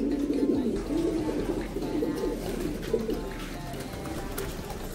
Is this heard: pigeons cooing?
yes